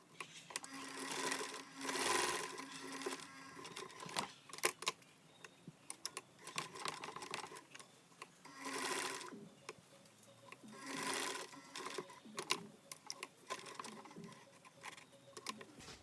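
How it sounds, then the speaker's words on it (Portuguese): A sewing machine stitching a heart appliqué onto a dish towel, with close rapid runs of mechanical whirring and ticking, starting and stopping in several bursts, alone without speech. "Vamos para nossa maquininha. Eu sempre começo pela parte onde o coração tá aberto."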